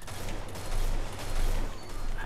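Rapid gunfire from a weapon in Destiny 2, loud bursts of shots in a dense continuous volley that swells and fades over a couple of seconds.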